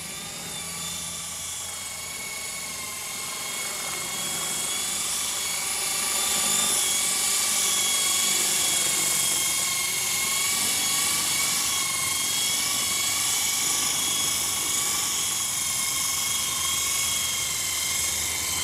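An Esky Honeybee CP2 RC helicopter flies and comes in to land, its steady high-pitched rotor and motor whine loud and continuous throughout, swelling slightly as it draws nearer.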